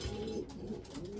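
Racing pigeons coo softly in a loft after a race, a low rolling murmur repeating over a steady background hum, fairly faint and close.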